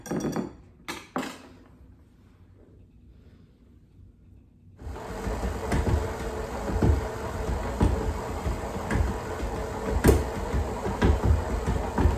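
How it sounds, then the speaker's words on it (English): Electric mixer blending dry cookie ingredients, starting after a few faint clunks and a quiet pause, then whirring at a steady moderate level with occasional knocks against the bowl. "I am just gonna add all my dry ingredients and just blend them till they're mixed together."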